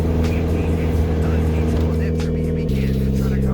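A turbocharged Volkswagen Jetta idling as it warms up in bad weather, a loud steady low engine drone heard up close, with the idle pitch dropping slightly near the end.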